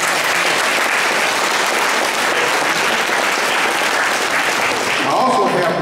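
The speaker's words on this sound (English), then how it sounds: "Let's give her another round of applause." Loud, sustained applause from a luncheon audience for a keynote speaker, dense clapping filling the whole stretch without pause.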